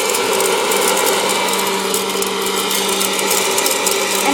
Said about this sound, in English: I would just connect our machine, and it should start by going off.